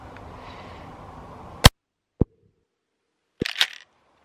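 A pump-action shotgun loaded with minishells is fired and worked: a sharp loud report, then a single click and a short rattling clatter of the action cycling, in an otherwise quiet setting.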